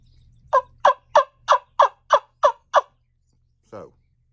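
Wild turkey wing bone call sounding a run of eight sharp, evenly spaced turkey yelps, loud and close, then a single softer note after a short pause; no talking.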